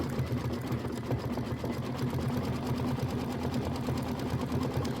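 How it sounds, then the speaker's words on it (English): A home sewing machine running a satin stitch on a mini quilt, a fast even mechanical whir with rapid needle beats, steady and close with no talk. "So now it's satin stitch time."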